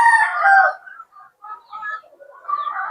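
A Boston Roundhead gamecock crows loudly and close, a single drawn-out call that breaks into stuttering trailing notes at the end.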